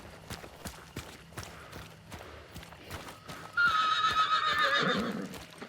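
A horse in the Hunt: Showdown video game clip-clops with rhythmic hoofbeats, then lets out a loud, drawn-out neigh near the end.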